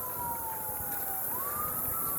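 Emergency vehicle siren in Kansas City, a single wailing tone that slowly drops and then rises again, sounding moderately distant over steady broadband city background noise, with no talking.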